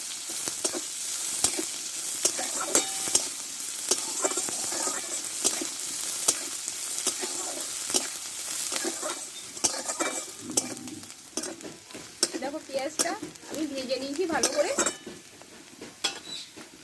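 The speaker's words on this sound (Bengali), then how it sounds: "একটা পেঁয়াজ মোটা সাইজে কেটে রেখেছিলাম আমি দিয়ে দেবো পেঁয়াজটা একটু ভালো করে ভেজে দেবো" Coarsely chopped onion sizzles and fries in a pan with black cumin while a spoon stirs and scrapes against the metal, giving steady close frying noise with frequent clinks and scrapes and no talking.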